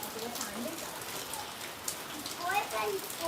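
Rain falls in a soft, steady hiss, fairly quiet, with faint voices murmuring in the background.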